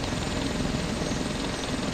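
A helicopter hovers overhead in the Arma 2 DayZ Epoch video game, its rotor and engine producing a steady, continuous drone throughout, moderately loud with no voices.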